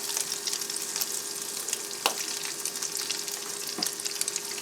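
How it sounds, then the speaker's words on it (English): Steady hissing sizzle of shrimp frying in a hot pan for shrimp fried rice, cooked in a tent, with a couple of sharp clinks from stirring. "Got a little bit of a sizzle, so that's a good sign."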